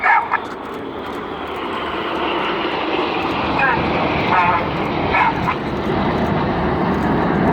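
Red Arrows jets roar steadily at an evening airshow in Sunderland, a broad, sustained engine noise filling the air while a commentator talks over it and a dog barks briefly.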